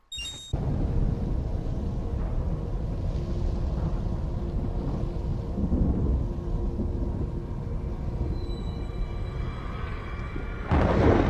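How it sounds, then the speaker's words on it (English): Timefall thunderstorm in the video game Death Stranding, a continuous heavy rumbling wash of rain and wind with low thunder rolling underneath, loud and steady, with a brief brighter burst at the end. "That timefall storm could not have come at a worse time."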